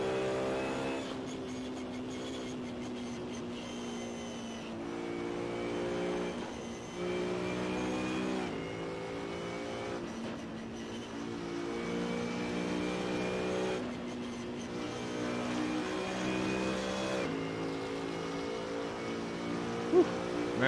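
A Mazda MX5 engine in Assetto Corsa revving hard through repeated gear changes, each climb in pitch cut off by a brief shift before building again, steady and close throughout.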